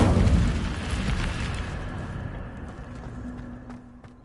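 The Incendio fire spell bursts in Hogwarts Legacy with a loud rumbling whoosh of flame that starts strong and slowly fades away over a few seconds.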